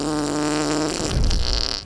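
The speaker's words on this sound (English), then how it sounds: "He's gonna fart on me!" A cartoonish fart from a Roblox game plays loud and close, a sustained buzzy blast that breaks into a sputtering, crackling tail.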